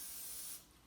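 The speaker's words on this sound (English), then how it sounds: "I'm just going to give our baking pan here a light spray" Cooking spray hissing onto a baking pan in a home kitchen, one short close burst lasting about half a second before trailing off.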